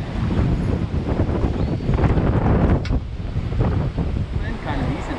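Steady wind buffeting the microphone on an ocean fishing jetty, loud and continuous with rumbling gusts and faint surf beneath.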